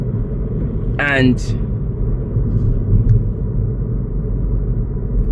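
Road traffic rumbles past from a car waiting by the road, a steady low drone with a brief voice and a short bird-like chirp over it early on.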